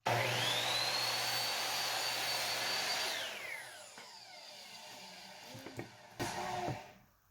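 A scroll saw cuts through a leftover piece of wooden fence picket for a scrap-wood window planter box, a steady whining motor buzz for about three seconds that winds down, followed by quieter clicks and handling knocks.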